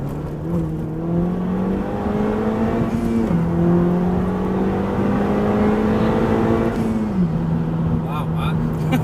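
A Honda Civic Type R with a 2-litre turbo engine pulls hard through the gears from inside the cabin, the revs climbing in steady rising sweeps with brief shift dips, a person talking over it.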